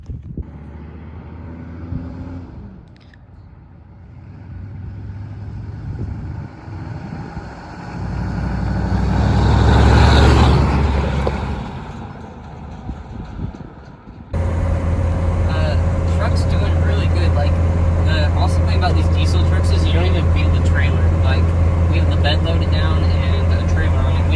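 A white 6.5 turbo diesel pickup truck drives toward a scrapyard towing a light trailer of scrap metal, its engine and road noise droning loudly, with wind buffeting and a sudden jump to a steadier, louder drone partway through.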